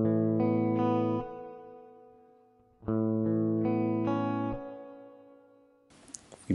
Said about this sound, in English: on the NUX and on the Boss, you've got a reverb here